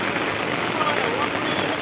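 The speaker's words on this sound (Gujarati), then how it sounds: "ધોધમાર વરસાદ અતિ ભયાનક વરસાદ પડતા હજી વરસાદ ચાલુ છે" Heavy rain pours down steadily in a village in Ranpur taluka, Botad district, amid wind, making a loud, continuous hiss as a person talks over it.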